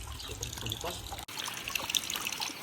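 Mountain water trickles and splashes steadily nearby in the Spanish Pyrenees, a continuous bright babble with a brief dropout midway; a voice speaks faintly underneath.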